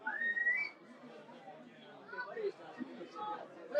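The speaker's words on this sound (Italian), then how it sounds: "poi l'arbitro ha fischiato" Referee's whistle blown during an Eccellenza Sicilia football match between Geraci and Castellammare, a short shrill blast near the start over crowd chatter and murmur from the stands.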